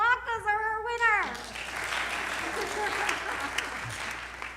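A temple congregation at a Friday evening service claps as a show-of-hands vote for latkes, a broad, steady wash of applause that follows a brief sung or spoken phrase at the start and carries on evenly to the end.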